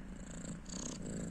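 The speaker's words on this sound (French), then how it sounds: "vous allez peut-être entendre ronronner, c'est Zozo qui fait des câlins." A cat purrs close up indoors, a soft, low, steady rumble lasting just over a second, with no talking over it.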